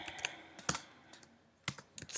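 Keys clack on a computer keyboard while code is typed in Xcode, a few quick irregular clusters of close, crisp key presses separated by short pauses.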